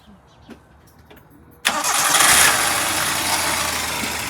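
A car engine is restarted during a fuse and relay test: a quiet lead-in with faint sounds, then a sudden crank and catch into a loud, steady idle that holds to the end.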